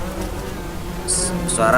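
A man imitates the buzzing call of a bee with his voice, a steady droning hum that carries throughout and ends in a few brief higher, whining tones.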